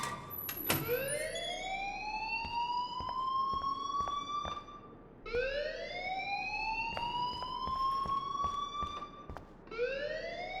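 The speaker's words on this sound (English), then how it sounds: "please turn off that alarm" A school alarm in Life is Strange wails in repeating rising sweeps, each climbing tone holding briefly before cutting off, with sharp clicks between cycles, loud and continuous.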